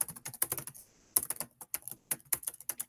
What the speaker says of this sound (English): You hear Jackson typing away.